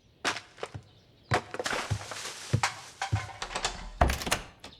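Knocking on a dorm room door, a series of sharp, hollow wooden thunks in irregular bursts, some close together and some spaced apart, with one louder hit near the end.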